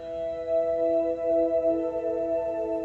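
A sustained electric guitar chord rings out with a washy reverb tail, the notes shimmering and swelling gently over a few seconds.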